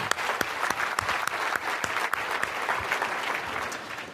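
An audience claps briefly, a steady patter of hands, with no cheering and no voices.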